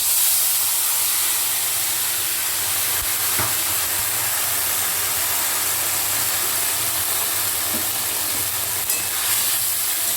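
Boiled taro leaves hit a hot pan of tempering oil with green chillies, giving a steady, close sizzle and hiss that runs throughout, broken by a few small pops.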